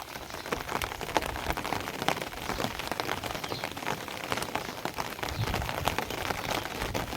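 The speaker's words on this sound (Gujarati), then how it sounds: "અમારા તો જો આવો છે વરસાદ." Heavy rain pours steadily over a farm field during a storm with wind, a dense, continuous hiss of countless drops spattering on ground and water, loud and close with no voices.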